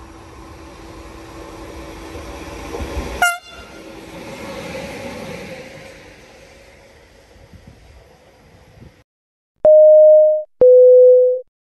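A train passes through the station on track 1 at Anzola Emilia. A rushing rumble of cars builds and then fades away, with a sharp clank early on. Two loud, steady electronic tones follow, like a platform alert signal.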